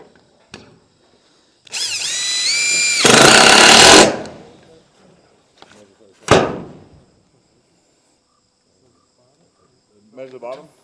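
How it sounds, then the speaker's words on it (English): A power drill whines briefly as it drives a screw, a short rising burst followed by a louder full-speed spin, then a single impact-like thump, with people talking around it. "I'll put a screw in just to hold it."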